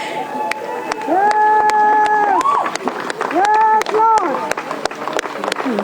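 Rescue workers and onlookers cheer as a survivor is pulled from rubble: loud, drawn-out shouts and cries ring out over scattered sharp claps, with voices overlapping throughout.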